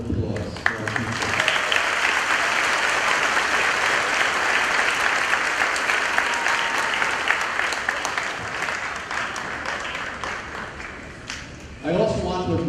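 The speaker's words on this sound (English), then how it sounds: "give them, please, a round of applause for our teachers" Sustained applause from an audience honouring teachers at a graduation ceremony, dense steady clapping lasting about eleven seconds before fading, then a voice resumes speaking at the end.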